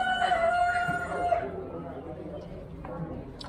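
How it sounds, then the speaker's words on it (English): Roosters crowing at a livestock auction, a drawn-out crow in the first second and a half followed by fainter calls, mixed with crowd chatter and nearby voices. "Roosters, look at roosters."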